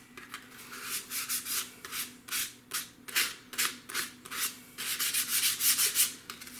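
Tissue covering is trimmed off a model aircraft, giving a steady run of close, rhythmic rasping and rubbing strokes that come in quick bursts of varying strength, with no talking.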